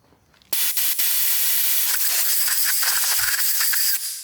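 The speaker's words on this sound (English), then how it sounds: "I'm going to use some compressed air and just blow it down in there" Compressed air is blown into the brake caliper of a Mercedes GLA during a front brake pad and rotor job, a sudden loud, close hiss that starts abruptly and holds steady for over three seconds with slight rattling underneath.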